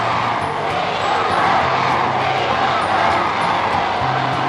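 A dense crowd gathered at a town hall cheers for the footballer Bert Trautmann. The roar is loud and continuous, with whoops and shouts running through it.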